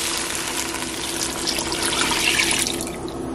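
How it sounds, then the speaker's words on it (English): Water poured into a cooking pot in a home kitchen, a steady close splashing stream for a few seconds before it tapers off. "I'm going to add some water."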